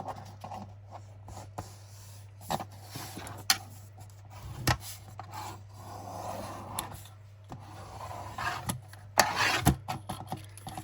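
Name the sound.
burnishing paper down in a junk journal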